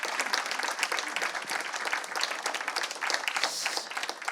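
A conference audience at a cancer-care meeting applauds the presenters, dense continuous clapping from many hands that stays fairly loud and even throughout.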